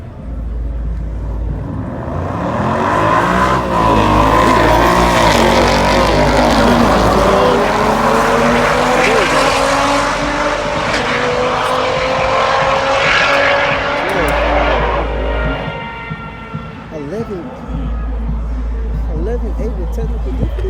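Nissan GT-R cars race with loud, sustained engine roar and rising gear sweeps as they accelerate past close by, with people talking over the noise.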